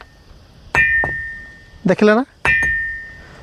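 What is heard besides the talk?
stone struck against stone giving bell-like ringing sound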